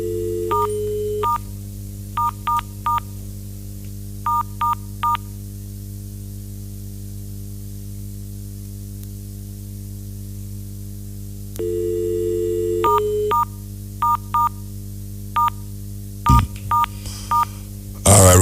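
Telephone keypad tones dial out for a radio call-in contest, clusters of short beeping DTMF tones in irregular bursts over a loud steady line hum and static, with a longer tone segment in between.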